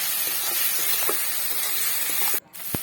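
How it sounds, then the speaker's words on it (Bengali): Onions fry in a pan with a bay leaf as the base for bottle gourd kofta curry, a steady loud hiss and sizzle that cuts out briefly near the end. "ভালোভাবে নেড়ে চেড়ে ভেজে নেব"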